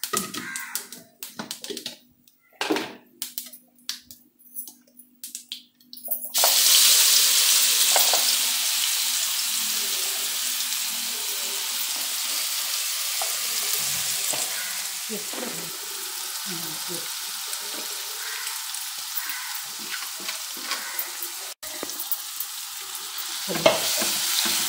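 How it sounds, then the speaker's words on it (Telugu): Chili powder fries in hot oil with a steady, broadband sizzle that starts abruptly after a few seconds of scattered taps and scraping. Occasional stirring clatters sound through the continuous hiss. "సో ఆయిల్లో ఈ కారం అంతా కూడా ఫ్రై అయిన తర్వాత"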